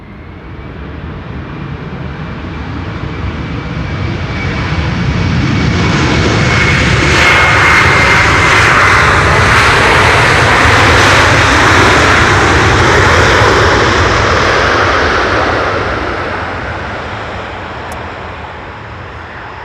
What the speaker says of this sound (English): that was a loud airplane